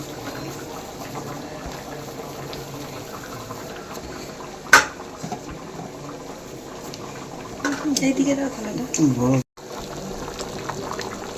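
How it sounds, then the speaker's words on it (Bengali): A pot of chickpea curry bubbles and boils steadily on the stove while chole bhature is cooked, a continuous low simmer under nearby talk and a brief clatter. "আর এইদিকে এটা ফুটছে টকবক করে"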